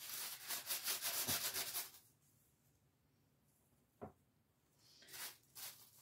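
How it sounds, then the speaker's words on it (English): A lamp surface being burnished by hand gives quick, close, rhythmic scratchy rubbing strokes for about two seconds, then near quiet with one faint scrape, and a few more short rubs at the end. "do a little more burnishing here where I had to fix in"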